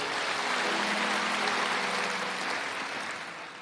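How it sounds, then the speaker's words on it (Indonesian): A church congregation at a Sunday service claps together in a steady, broad wash of applause that fades slightly toward the end, with no voices over it. "Berikan tepuk tangan untuk Tuhan Yesus."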